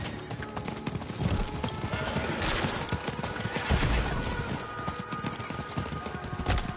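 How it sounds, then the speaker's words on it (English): Horse hooves clip-clop in a steady, close rhythm during a hunting side mission in a video game, with a neigh and bursts of distant gunfire mixed in. "we might as well go there by horse"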